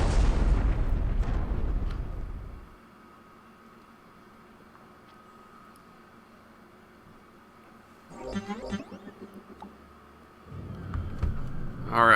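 Spaceship crash landing in the video game Darkout, a loud rumbling roar and impact that fades out, followed by quiet hum, then a rattling burst and renewed rumble.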